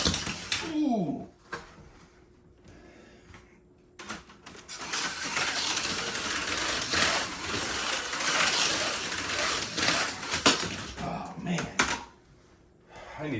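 An RC car on a T chassis runs laps nearby, its motor and tire noise a steady broadband whir that swells and fades as it passes, with brief quieter gaps and a person's voice at the start.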